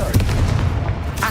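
A Confringo spell blast in the video game Hogwarts Legacy, a heavy booming burst with deep rumble and crackling debris, loud and close, followed by a brief bright flare at the end.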